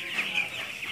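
Broiler chickens clucking in a poultry house during vaccination through drinking water, a close, loud burst of overlapping clucks and chatter with no speech.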